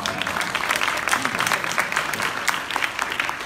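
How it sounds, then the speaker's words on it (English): Studio audience at a public radio conversation in Charlotte on community approaches to homicide and gun violence breaks into steady, dense applause, many hands clapping at moderate volume throughout, with no talking. "You can applaud if you want."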